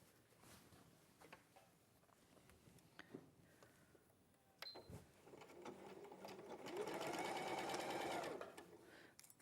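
A sewing machine stitches a dress seam up to the shoulder, a loud steady run near the end following quieter handling sounds and light fabric rustle.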